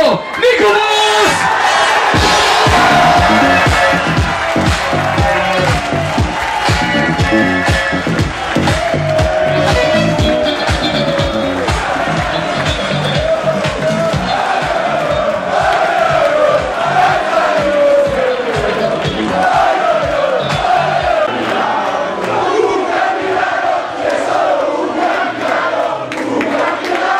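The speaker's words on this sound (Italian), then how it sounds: "Signori, l'applauso va al numero 12, il capitano Nicolas!" A crowd celebrating Cantù's basketball Supercoppa win cheers and yells loudly for captain Nicolas, a dense sustained roar with shouts and a rhythmic clapping pattern, voices mixed in throughout.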